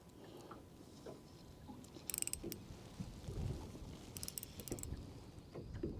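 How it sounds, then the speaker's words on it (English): A fishing reel winds in a hooked bream on light gear in cold water, with soft mechanical clicking and short bursts of rapid ratcheting, quiet and close, alongside faint handling noises. "I'll just take it nice and easy because I don't know how deep he's got the lure"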